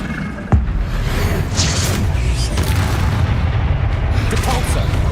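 Incendio fire spell in Hogwarts Legacy, a sharp crack opening into a sustained roaring, crackling blast amid heavy combat rumble, with scattered bursts layered over a loud continuous background.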